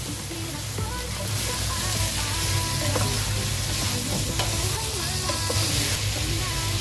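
Beef chunks frying in hot oil for a Filipino kalderetang baka stew, with a steady, dense sizzle and crackle running loud and close throughout, plus occasional stirring.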